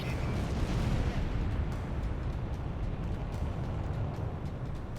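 Anti-aircraft artillery is destroyed in the Ace Combat 6 video game, a continuous heavy rumble of blasts and booming fire, loud and dense with scattered sharp cracks over a roaring bed.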